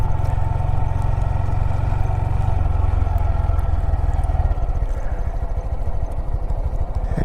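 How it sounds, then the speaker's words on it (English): Motorcycle engine rumbling loud and close while the rider rev-matches through a gear change, a steady low drone whose pitch drops and turns rougher partway through. "That's rev matching."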